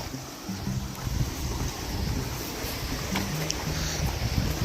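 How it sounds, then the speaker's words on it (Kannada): Water flowing in a small stream near Sakleshpur gives a steady rushing wash, mixed with wind buffeting on the microphone and some low rumble, continuous and without clear talk. "ತೋಡಿನಲ್ಲಿ ಹರಿಯುತ್ತಿರುವ ನೀರುಗಳು."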